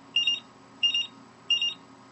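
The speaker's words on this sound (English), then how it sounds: "you have this very annoying continual beeping sound that will not silence itself ever." An HK-010 power meter sounds its continual high-cell-voltage alarm, three identical short electronic beep bursts repeating at a steady, evenly spaced rhythm, loud and close against a quiet background.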